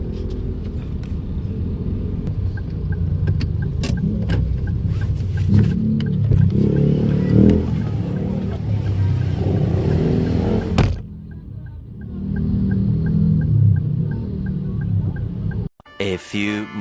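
Heavy road traffic heard from a motorcycle makes a continuous engine rumble with passing vehicles. The noise drops off abruptly partway through, then returns and ends in a few sharp clattering bumps.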